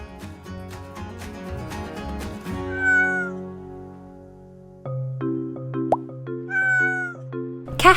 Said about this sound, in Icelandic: Kettlingur.